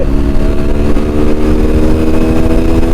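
A TVS Apache RTR 160 motorcycle engine revs hard and loud and close up, climbing through its gears with a steady droning roar and no voices.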